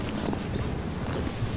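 American miniature horses at a zoo in Yekaterinburg move about during training, their hooves giving soft, irregular clip-clop steps close by over a steady background rumble.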